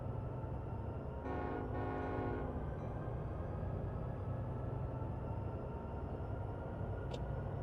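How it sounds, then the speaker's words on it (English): A train in Train Sim World 4 hums along with a steady low rumble, while a horn sounds in a long tonal blast early on, followed by a faint high ping near the end. "the end of the train is moving."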